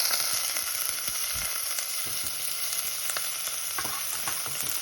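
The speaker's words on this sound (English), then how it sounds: "Sizzling away." Chicken pieces sizzle steadily in hot oil in a pan, a dense crackling hiss with occasional sharper pops, close and fairly loud throughout.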